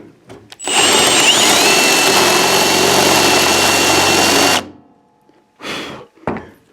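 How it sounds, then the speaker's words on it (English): A power drill bores holes in the sheet metal roof skin of a 1963 Chevy C10 truck, a close, loud, steady whirring whine lasting about four seconds, followed by a few short knocks and a brief scrape. "I done drilled one in right here."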